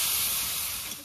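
Water poured onto hot spice paste frying in a pan gives a sharp, steady hiss that lasts about a second and fades slightly at the end, heard alone.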